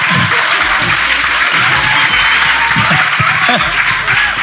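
A podcast audience breaks into applause, a dense burst of clapping that carries on steadily while a voice talks over it.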